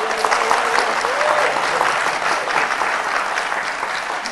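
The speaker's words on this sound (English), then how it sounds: "give her a round of applause" A convocation audience at a university Founder's Day breaks into loud, sustained applause welcoming the university president, dense clapping from a large crowd filling the room for over four seconds.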